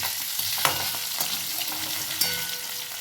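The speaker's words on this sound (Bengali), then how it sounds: "এবারে ভেজে নেব আলু কটা আলুগুলো একটু" Potato pieces fry in hot oil in a pan with a steady close sizzle, punctuated by a few sharp clinks and scrapes of stirring.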